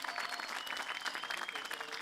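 A crowd at an outdoor political rally in Gostivar applauds continuously, a thick wash of clapping with faint whistles or music tones running through it.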